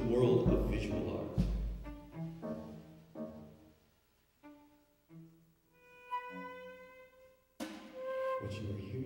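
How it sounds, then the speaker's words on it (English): Sparse chamber music in pointillist style, with isolated plucked and struck notes and short tones scattered across registers and separated by silences. It sounds close and fairly quiet, and a spoken voice is heard at the start and end. "What you are hearing right now is musical pointillism,"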